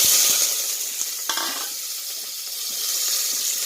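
Onion and green chili sizzle in a hot pan while cooking white pumpkin, a steady crackling fry with a few stirring scrapes, close by and without voices.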